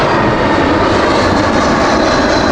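Loud, continuous roar of a departing airliner's engines at Heathrow Airport, a steady broadband rush with no talk over it.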